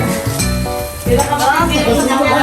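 Seafood sizzles steadily on a built-in grill at a seafood party, with a loud, close frying hiss, the clink of utensils and people talking over it.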